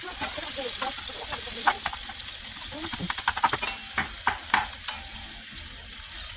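Beef sizzles in a hot pan for cheesesteaks, a steady close frying hiss broken by scraping and stirring clicks from a spatula.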